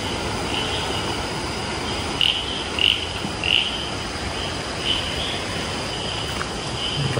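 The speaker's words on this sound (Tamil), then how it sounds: "தவளை சவுண்ட்லாம் கேட்குதுங்க." Frogs croak during a monsoon evening in forest beside a river at Manambolly near Valparai, giving repeated short, moderately distant calls at uneven intervals over a constant background hiss.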